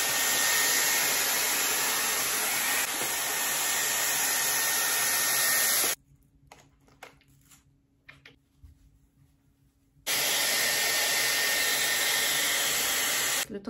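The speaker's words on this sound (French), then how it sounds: "Et ensuite, je vais utiliser la brosse soufflante." A Dyson hot air brush blowing while drying hair at home: a loud, steady airy roar runs for about six seconds, cuts out to near quiet with small rustles for four seconds, then starts again at full strength.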